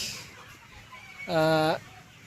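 A chicken on a poultry farm raising Sonali super hybrid A+ birds gives a single loud, short harmonic cluck-squawk near the middle, over quiet barn background.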